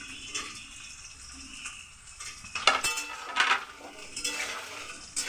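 Capsicum stirred in a frying pan for a Bengali mixed-vegetable dish: a metal spatula scrapes and clinks against the pan in irregular bursts over a low sizzle, fairly close, with no talking.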